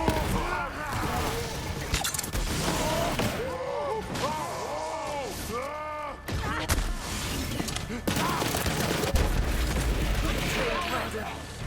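Sustained video-game gunfire in Borderlands 3, loud overlapping shots and booms with reflected bullets, continuous with brief dips, while someone talks over the action.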